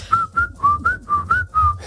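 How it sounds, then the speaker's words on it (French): A person whistles a bright, wavering tune in short phrases of about six notes, each note gliding up or down, close and clear with a low hum beneath and no talking. "Ouais, mais moi, je siffle plutôt."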